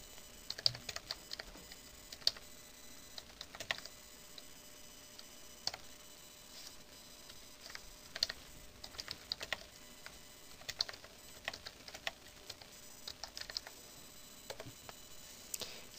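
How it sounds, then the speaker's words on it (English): Someone types text on a computer keyboard while making a magazine cover in Adobe Photoshop CS5, producing close, irregular bursts of crisp key clicks with short pauses between them. "I'm just going to type in MW3."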